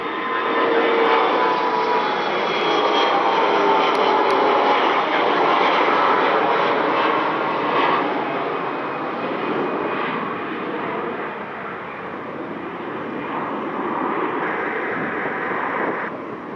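Steady, loud roar of a Delta jet airliner at Detroit Metro Airport, a broad engine rumble with a faint whine that holds throughout and swells and eases slightly as the aircraft moves; a voice is faintly present.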